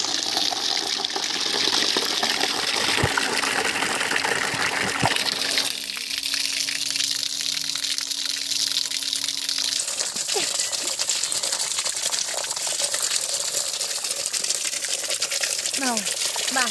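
Running water gushing over susni shak greens being washed in a kitchen, a steady splashing flow with some handling clatter partway through and a brief voice near the end.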